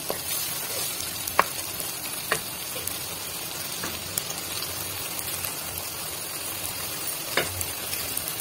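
Chicken stock added to carrots and vegetables frying in a pan for chicken manchurian: a close, steady sizzle with a few sharp clinks and scrapes of a utensil, no talking.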